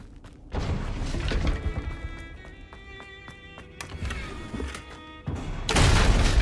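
A fiery blasting spell explodes in the Hogwarts Legacy video game with a loud booming burst, then crackling magical ringing tones and another heavy rumbling blast near the end.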